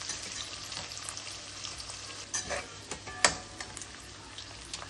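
Onions frying in oil in a pan give a steady close sizzle with scattered sharper crackles and pops.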